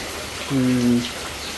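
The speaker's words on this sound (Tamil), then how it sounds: "சூமில் வைக்கும்போது மழை பெருசாக தெரியுது" Steady rain hisses across a village in Jaffna, a constant broadband wash that runs the whole time, with a short voice sounding over it in the middle.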